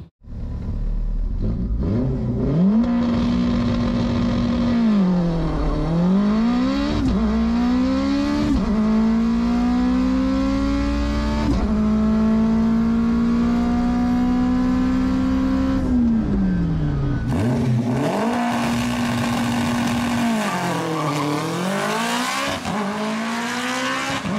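A 700HP all-wheel-drive Honda RSX on a stock 200,000-mile K20 launches with a loud rising engine roar, climbing through several gear shifts with brief dips between pulls, sustained and close.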